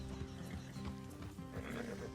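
Horses in the Red Dead Redemption 2 video game whinny and snort close by, with faint hoof clops over a steady low ambient bed, continuous through the moment without speech.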